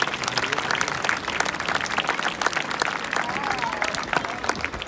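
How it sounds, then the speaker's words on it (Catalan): An audience at the Barceloneta festa major gives steady, dense applause for several seconds, many hands clapping together at moderate distance with a faint murmur of crowd voices underneath. "Un fort aplaudiment"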